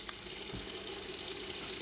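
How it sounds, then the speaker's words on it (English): Water runs steadily into a large clear plastic container, a continuous broadband rush of filling that stays close and fairly loud throughout, with no talking. "fill it up with water"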